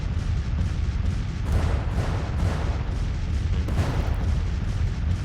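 Heavy artillery bombardment in the Civil War strategy game Grand Tactician, a dense continuous rumble of overlapping booms and distant blasts, loud and sustained with a few sharper bursts standing out.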